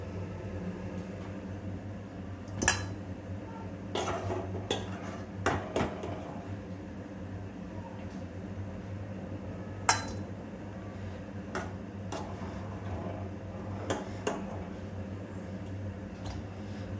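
Fried bitter gourd pieces are scooped from a pan into a bowl, giving scattered clinks and scrapes of utensils against cookware over a low kitchen hum, with no speech.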